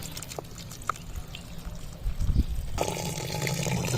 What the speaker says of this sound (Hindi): और 1 लीटर पानी डालेंगे